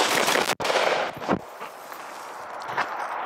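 A piston-driven AR rifle fires a rapid burst, loud and close, cut off sharply just after the half-second mark, then followed by fading echo and a few faint softer knocks.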